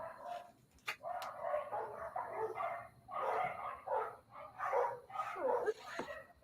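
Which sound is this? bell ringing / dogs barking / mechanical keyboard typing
dogs barking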